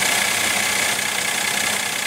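A 2015 Mercedes-Benz E350 with a 3.5-liter V6 idles steadily at close range, a constant mechanical hum with fine vibration and no voices over it.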